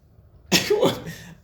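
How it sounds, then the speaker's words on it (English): A single harsh cough from a chest cold caught in cold mountain weather, close and loud, breaking abruptly out of near silence and trailing into a brief raspy breath. "the cold in the mountain entered my chest, so that's why I can cough"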